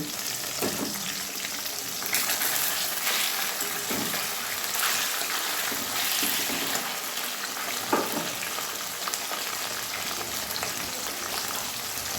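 Pieces of fish fry in oil in a pan over a medium gas flame with a lid on, giving a steady, close sizzle that runs without a break, with a few soft clinks and stirring noises over it.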